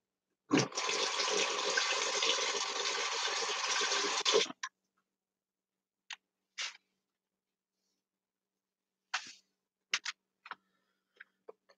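Tap water gushes into a cooking pan set to soak for about four seconds and then stops, followed by scattered faint clicks and clinks in an otherwise quiet room.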